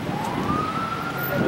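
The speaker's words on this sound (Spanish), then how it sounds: "Ahí se escucha el sonido de la sirena." A siren sounding at a church mass in Durango for the late vocalist of a band rises in a steady, drawn-out wail that stays moderately loud above a busy crowd background.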